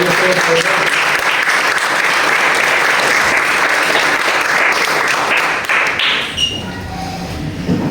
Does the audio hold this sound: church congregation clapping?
yes